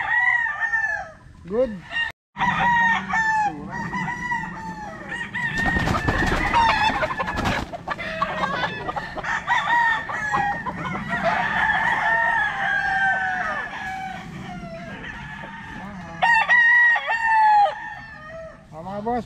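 Roosters at a Philippine gamefarm crow repeatedly in overlapping calls, near and far, amid steady clucking from many fowl, with someone talking intermittently over the birds throughout.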